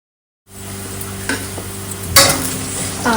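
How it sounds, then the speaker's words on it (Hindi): Potatoes and peas fry in a pan. After a brief silence, a steady crackling sizzle sets in and runs continuously, broken by a few light clinks and pops. "तो यहाँ पे हमारे आलू फ्राई हो रहे हैं।"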